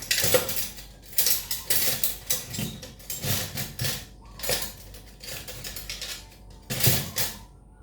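A spoon clatters against dishes while a Thai eggplant soup is being cooked, with bursts of metallic clinks and scrapes separated by brief pauses, close and fairly quiet.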